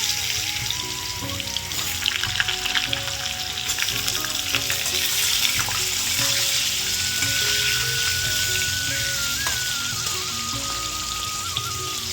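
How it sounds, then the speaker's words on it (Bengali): Potatoes frying in salted oil give a loud, constant crackling sizzle, close up with light bubbling and spatter throughout and no talking. "এবার আলুটা ভেজে নেবো"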